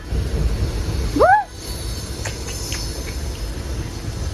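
Steady rumbling clatter of a passenger train running on rails, heard on board, with a brief rising squeal early on and faint metallic clicks afterward.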